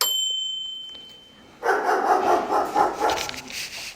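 A dog barks in a quick, uneven run of yaps, close and fairly loud, coming in suddenly after a quiet stretch with a faint tone.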